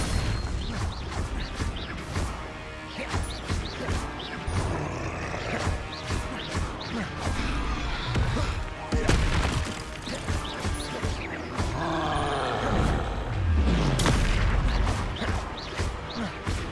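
Repeated Confringo spell explosions in the video game Hogwarts Legacy, dense loud bursts and booms that overlap continuously with game effects and clashing magic throughout.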